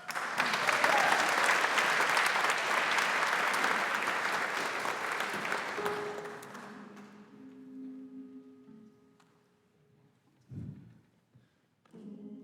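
Audience applause at a choral concert presentation fills the room loudly for about six seconds, then fades into scattered claps and quiet, with a couple of soft thumps near the end.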